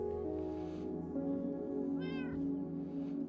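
A cat meows once in the video game Minecraft, a short rising-and-falling call heard clearly over a steady backdrop of game music.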